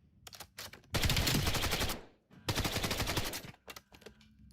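Rapid automatic gunfire from a weapon on a Call of Duty firing range: a few quick single shots, then two long sustained bursts separated by a brief pause, followed by scattered shots, loud and close.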